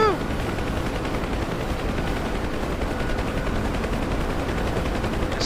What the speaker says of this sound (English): This firefight is pretty intense, man.